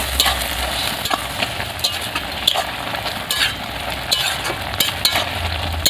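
Greens cooking in a pan with potato and fish give a close, bright sizzle and hiss, punctuated by frequent sharp spatula clicks and stirring scrapes, with a faint low hum beneath.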